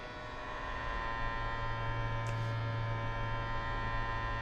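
High boost fuel pump in an SR22T in X-Plane 12, giving a steady electric hum with a faint buzzing tone, continuous and even, alone without talk.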